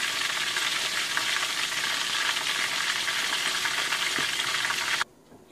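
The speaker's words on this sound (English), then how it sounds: "So with the fish, we're just going to cook this one half cooked." Tilapia frying in a pan gives a loud, dense, continuous sizzle heard up close and alone, stopping abruptly near the end.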